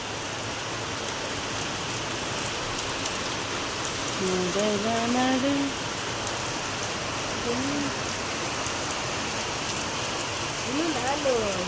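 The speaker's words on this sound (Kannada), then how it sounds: "ಒಟ್ನಲ್ಲಿ ಮಳೆ ಬಂತು ಅಂತೇಳಿ ಬಂತು" Steady rain pours down as a continuous hiss throughout, with faint tonal sounds drifting in now and then beneath it.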